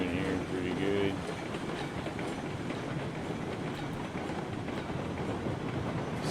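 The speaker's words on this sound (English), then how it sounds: "Get the train moving here pretty good." Train rolling on rails in the RailRoads Online video game, a steady continuous rumble with faint clickety-clack of wheels, loud and close, holding an even level throughout.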